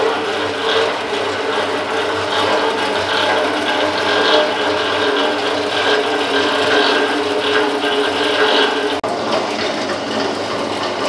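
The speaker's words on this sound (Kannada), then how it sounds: "ಇದನ್ನ ಸ್ಟಾರ್ಟ್ ಮಾಡಿ ಶಾವಿಗೆ ಮಾಡ್ಕೊಂಡ್ಬಿಡೋದು" Shavige vermicelli making machine running steadily, a continuous close mechanical whir with a rattling ratchet-like texture and a brief knock near the end, no talking.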